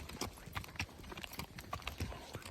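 A mare's hooves clip-clop at a walk near a flock of sheep, quick uneven hoof knocks close by with faint background noise.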